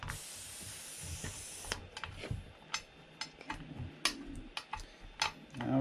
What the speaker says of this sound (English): let all the air out of the tire